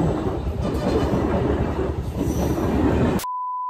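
A passenger train rumbles loudly along the rails, with a dense, steady roar of wheels and carriage noise from inside or close by, cut off abruptly near the end by a pure electronic tone.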